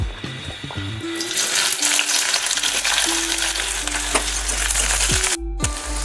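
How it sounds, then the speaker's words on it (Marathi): Chopped onion goes into hot oil in a heated kadhai and sets off a loud, continuous sizzle up close, with spoon clinks and scrapes scattered throughout and a low hum underneath. "आता त्यामध्ये कापून घेतलेला कांदा टाकायचा आहे।"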